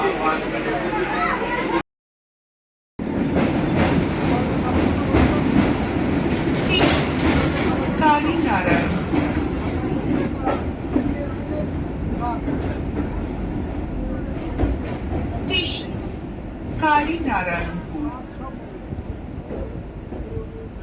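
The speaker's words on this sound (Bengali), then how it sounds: "একদম ফাঁকা ট্রেন ঠাকুরনগর থেকেও বিরাট ফাঁকা" A nearly empty passenger train runs on rails on a Sunday, its steady rumble and rhythmic clatter continuous and close, with faint squeals and a brief silent gap near the start.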